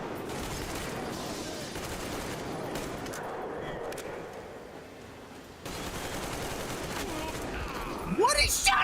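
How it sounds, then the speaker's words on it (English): Bursts of gunfire hitting the player in Metro Exodus, a dense crackling volley that dips and returns, with a sharp burst near the end; a voice talks over parts of it. "What is shooting me?"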